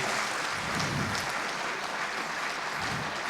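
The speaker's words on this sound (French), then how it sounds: "Merci Sophie Vouzelot, on peut l'applaudir" Audience at an accessibility awards ceremony applauds an honoree, a continuous dense patter of many hands clapping at a steady level with no break.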